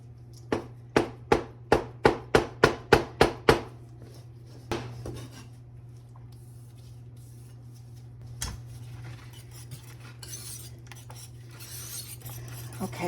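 A knife chops rapidly on a cutting board, about a dozen sharp, evenly spaced knocks in quick succession, then a couple of isolated taps and quiet handling sounds, close by with no talking.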